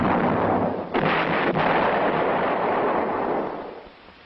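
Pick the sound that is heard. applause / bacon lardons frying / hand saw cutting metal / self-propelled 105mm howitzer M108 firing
self-propelled 105mm howitzer M108 firing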